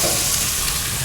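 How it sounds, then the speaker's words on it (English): A burger searing over the fire of a Lone Star Grillz 24x36 offset smoker, giving a loud, dense, steady sizzle with constant hiss and crackle close up, with no voices. "now we're going to sear our burger right on top of that"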